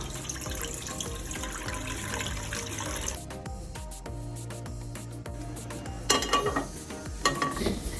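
Water draining and trickling off food in a kitchen, a running splash that pauses, then returns with a few louder pours and clinks.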